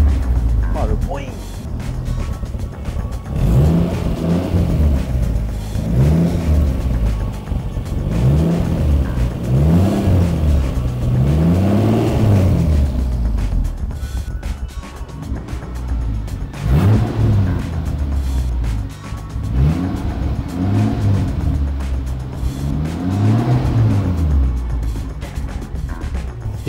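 A Toyota 2JZ engine on its first warm-up revs repeatedly, its note climbing and falling in about ten rhythmic blips over a steady idle, close and loud, with talk over it.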